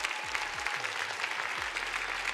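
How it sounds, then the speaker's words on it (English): Crowd at a Washington State robotics championship applauds steadily through the short stretch, a dense even wash of clapping with low background tones underneath. "yeah, go ahead, clap."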